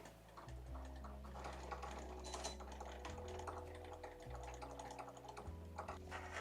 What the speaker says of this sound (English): we're ready to do the cut, so just pressing play. And it's going to cut those snowflake designs out.